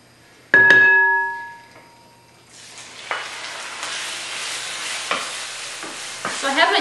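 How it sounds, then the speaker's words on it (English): Chicken sizzles in a hot frying pan with a little olive oil, a steady close crackle of frying that builds after a single ringing metallic clink from the pan near the start. "I have my frying pan hot here with a little bit of olive oil in it. And I'm going to cook up some chicken."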